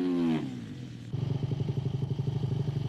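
Honda supermotard motorcycle racing at the Lohéac circuit. One engine note sweeps past and fades, then a steady, near, pulsing engine drone follows.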